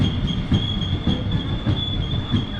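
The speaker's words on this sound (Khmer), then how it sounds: "ពេលនេះរថភ្លើងដែលយើងរងចាំបានមកដល់ហើយរថភ្លើងនេះគឺមានប្រភេទ ឈ្មោះថារថភ្លើងម៉ូកុងហ្វា" Mugunghwa train rolling into a station platform on the way to Daegu, with steady wheel rumble, rhythmic clacking over rail joints and a sustained high-pitched wheel squeal running throughout, close and fairly loud with no talking.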